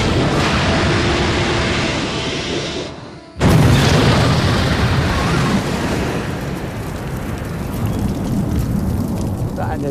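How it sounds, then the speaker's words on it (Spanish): A ship hit by a U-boat torpedo explodes with a sudden loud boom after a brief drop in sound, followed by a long, roaring, rumbling wash of fire and water that continues for several seconds. "Tras una enorme explosión, todo el barco y el agua ardieron."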